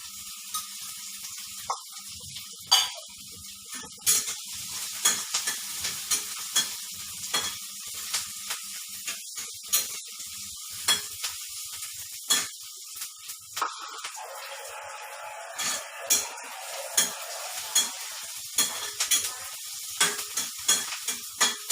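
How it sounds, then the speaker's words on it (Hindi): Chopped onions browning in a pan for bread upma give a low, continuous sizzle, broken by frequent sharp clicks and scrapes from a spoon against the pan. "प्याज थोड़ा ब्राउन होने देते हैं"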